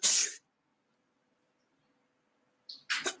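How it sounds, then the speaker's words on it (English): A single sharp sneeze bursts out at the start, then silence, followed by a short hiss and another loud burst near the end. "First, sneezing."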